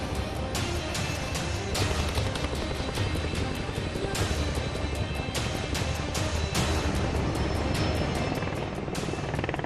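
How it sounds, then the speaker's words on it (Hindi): Indian Air Force helicopters flying in a night show of strength, a loud, continuous rotor chop with sharp rhythmic thumps and a heavy roar that holds steady and close throughout, with no voices. "वायुसेना की यह वो गर्जना है जिसे सुनकर चीनी सैनिकों के होश उड़ जाएंगे"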